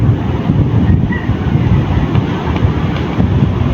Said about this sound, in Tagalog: Ang laki po ng alon mga kasimang.